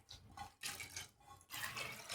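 Soaked masoor lentils being rinsed in water, with close splashing and sloshing in three short bursts separated by brief pauses.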